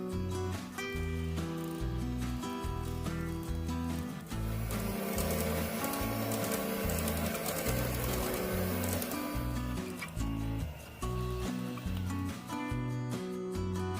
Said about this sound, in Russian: И взбиваю до однородной пышной массы.